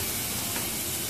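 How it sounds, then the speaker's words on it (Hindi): Garlic and ginger paste sizzles steadily in a hot pan for shahi paneer, a close, continuous frying hiss with no pauses. "इसमें हम लोग लहसुन और अदरक का पेस्ट डालेंगे"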